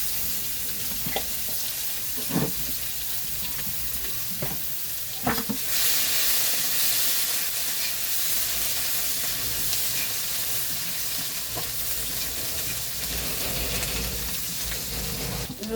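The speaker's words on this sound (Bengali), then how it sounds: "রসুন হয়ে গেছে ভাজা" Garlic fries in hot oil with dried chillies and black cumin, a continuous crackling sizzle broken by a few sharp clinks of a spoon, swelling louder for a stretch before settling back, with no talking.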